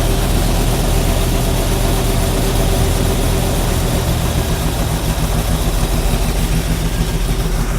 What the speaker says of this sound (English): Now we're just going to adjust the regular idle.